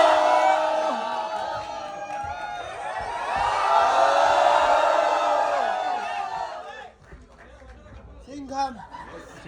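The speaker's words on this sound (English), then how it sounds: "Let's give a loud applause for Mr. Rohit Shetty and Mr. Ajay Devgan" A crowd at a fan screening of the 2011 film Singham cheers, whoops and shouts loudly for several seconds, swelling and then thinning into scattered voices and chatter.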